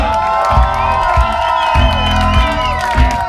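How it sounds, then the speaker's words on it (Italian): A concert crowd cheers and whoops loudly in repeated swells, with shouting voices rising over a sustained tone and a few thumping beats, close and energetic. "Fate un applauso fortissimo a Mauro Da Ros!"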